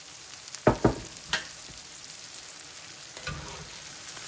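Frozen corn drops into hot bacon fat with a few sharp crackling bursts, then settles into a steady, close sizzle.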